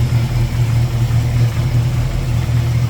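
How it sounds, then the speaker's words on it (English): The engine of a 1972 Chevrolet pickup with a Holley four-barrel carburetor and Hooker headers runs at a steady idle, close up, with a deep, even low-frequency rumble and no talking. "Good sounding engine."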